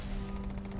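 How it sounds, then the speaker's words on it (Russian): A quick, faint burst of rapid gunfire in the game Starfield, several shots fired in a tight, even rhythm. "Куда Васка стреляет?"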